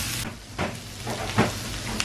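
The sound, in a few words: fried okra (bhindi) cooking in a pan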